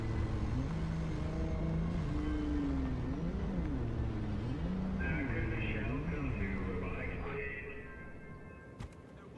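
Car driving in the video game MindsEye, a steady engine rumble with rising and falling revs, fairly close, fading toward the end as a voice and other game sounds come in.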